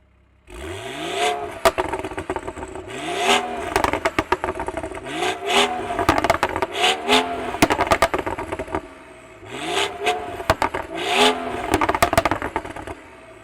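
BMW X3 M40i engine revved repeatedly in loud, sharp bursts, each rise falling back before the next, with crackling pops on the overrun between revs and no talk.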